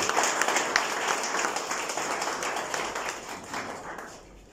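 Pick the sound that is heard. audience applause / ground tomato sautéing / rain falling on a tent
audience applause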